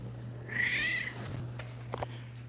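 A single cat, an older deaf indoor kitty, gives one short meow over a steady low electrical hum in a quiet room, followed by faint rustling noises.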